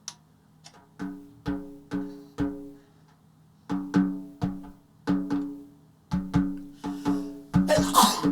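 Repeated sneezes from a person, a series of close, sharp bursts arriving in clusters with short pauses between, growing louder and noisier toward the end.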